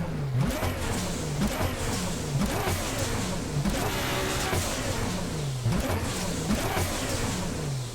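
A car engine with a loud turbo revs in the driving game No Hesi, with repeated rising revs and gear-change drops in a steady, fairly close rhythm.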